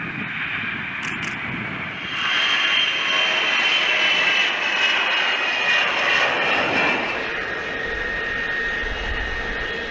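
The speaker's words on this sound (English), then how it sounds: "the E-3 is based on a Boeing 707 commercial airliner" A Boeing E-3 AWACS, a military aircraft based on the 707 airliner, passes with a continuous jet engine roar that swells in the middle and then eases slightly, with no talking.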